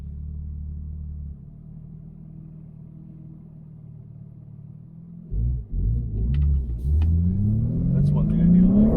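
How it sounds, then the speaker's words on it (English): A 2021 BMW M3 engine is heard from inside the car: a low, steady cabin hum first, then the engine swells into a loud, rising growl as the car accelerates hard. "You hear a lot more engine noise."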